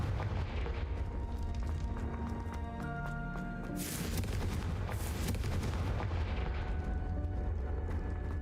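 A Confringo blasting spell explodes in the Hogwarts Legacy video game, loud booming blasts rolling over a dense, continuous rumble, with a sharp burst of debris-like crackle midway through.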